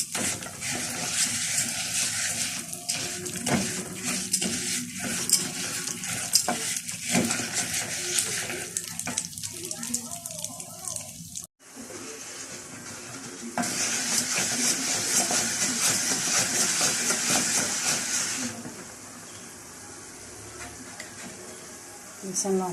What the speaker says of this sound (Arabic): هنحمر لسان العصفور الاول